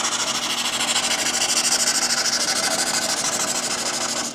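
A folded sheet of sandpaper rasps steadily back and forth along the edge of a handmade wooden bookmark, a close, continuous scratchy rubbing with a faint quick stroke rhythm and no talking.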